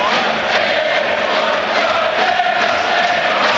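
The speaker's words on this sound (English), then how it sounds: "Ironic applause, the decision goes the Imps' way." Ironic applause from a football crowd at a Lincoln City versus Sunderland match, a loud, dense stadium roar of clapping and crowd noise holding steady throughout, broad and distant rather than individual claps.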